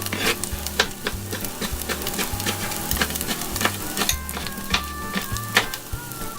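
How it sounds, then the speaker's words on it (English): Beef and eggplant pieces are stirred in a Ninja Foodi pot, with a steady sizzle of frying under repeated scraping strokes of the utensil against the pot, close and fairly loud, with no one talking. "Our eggplant, give it a stir around."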